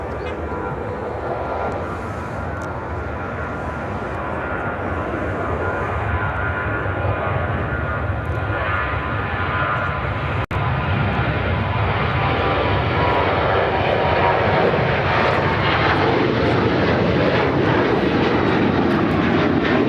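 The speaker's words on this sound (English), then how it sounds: "This is American Airlines 1485 taking off to Boston on the 737-800." An American Airlines Boeing 737-800 jet takes off at Chicago O'Hare, a loud, steady engine roar building slightly over the full stretch with no talk, a brief click near the middle.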